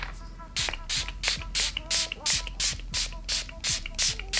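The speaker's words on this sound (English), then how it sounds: "I'm going to spray this all over my face" A rapid series of short, hissing bursts of makeup setting spray onto a face repeats in a steady rhythm, close up and fairly loud.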